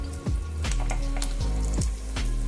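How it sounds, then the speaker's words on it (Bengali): Batter frying lightly in a little oil in an appe pan over a low flame, a loud close sizzle with a few sharp spitting bursts, no voices. "আপ্পে প্যানেতে অল্প করে তেল দিয়েছি, দিয়ে এগুলোকে হালকা করে ফ্রাই করে নেব"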